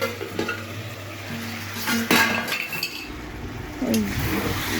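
Meat curry being stirred in a pot on a gas stove, a utensil scraping and clinking against the metal in a few short bursts over a faint background sizzle, close by with no talk.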